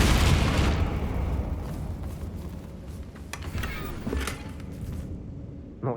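Confringo fire spell exploding in the Hogwarts Legacy video game, a loud booming burst at the start that rumbles and fades under crackling game effects and music.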